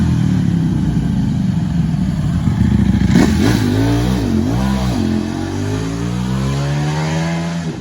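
A Ducati Panigale V4 S race-oriented sport bike accelerating hard in a tall first gear, its engine note climbing through loud rising revs with a brief dip mid-pull, close and steady with no talking.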